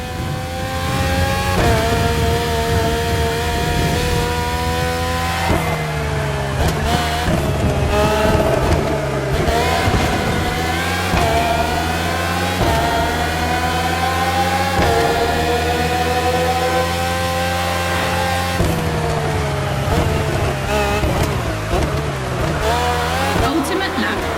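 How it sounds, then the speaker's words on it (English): Red Bull Formula 1 race cars with Renault and Honda engines in The Crew Motorfest, screaming loudly and continuously, their engine pitch climbing and dropping through repeated gear shifts while a voice talks over them. "7 years of evolution from Renault to Honda engines"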